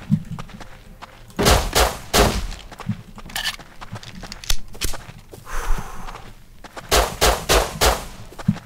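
Bursts of M4 rifle fire in the survival game Rust, sharp broadband cracks arriving in clusters of several shots with short pauses between, loud and close, with footstep-like clatter in the gaps.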